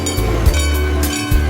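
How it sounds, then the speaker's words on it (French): A train rolls along the rails with a loud, close rumble and rhythmic clickety-clack bursts at regular intervals over a steady low hum. "Comptez les trains en mouvement."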